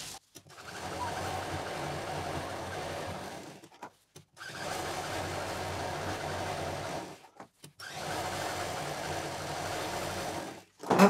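A sewing machine runs steadily while stitching the seam of a leftover-fabric bag, three long even whirring passes broken by brief pauses, close and fairly loud, with a voice starting at the very end.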